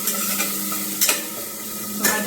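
A single tomato sizzles loudly as it is stirred into a hot pan, a continuous close frying hiss broken by a few scraping strokes of the spoon.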